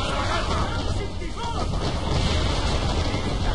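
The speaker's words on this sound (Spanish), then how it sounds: "Pero, ¿me está disparando ya?" Enemy cannon and gunfire in Assassin's Creed 3 roars in a dense, continuous barrage, with booming shots blending into a loud rumble and a voice talking over it.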